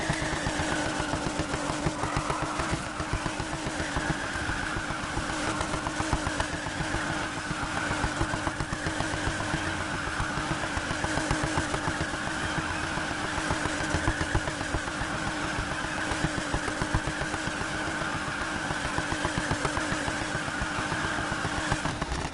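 A small car fitted with a big engine revs and spins hard in a continuous, gritty drone with a steady high whine, loud and unbroken from start to end, with no talk over it.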